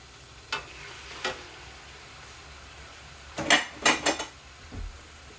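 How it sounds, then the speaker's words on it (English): Minced meat being stirred in a pan for meat pie filling: a low background sizzle with several clattering scrapes and knocks of a utensil against the pan, grouped in a brief burst near the end. "give it a little stir, and we're going to add minced meat"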